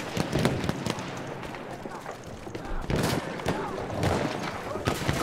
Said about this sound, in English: Fucking mortars.